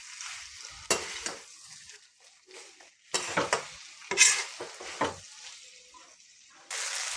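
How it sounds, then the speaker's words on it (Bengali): Green peas stirred and frying in a pan, with irregular scraping strokes and bursts of sizzling at moderate closeness, no voices. "মটরটা দিয়ে একটু ভালো করে নাড়াচাড়া করব, একটু ভালোভাবে ভাজবো গ্রিন মটরটা দিয়ে।"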